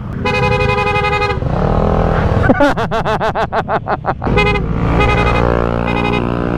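A loud motorcycle horn on a Honda ADV160 blares in long blasts, then a rapid series of short staccato honks, then longer blasts again, close by.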